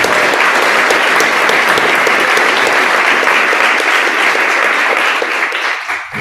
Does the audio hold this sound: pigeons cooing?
no